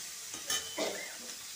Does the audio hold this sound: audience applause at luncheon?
no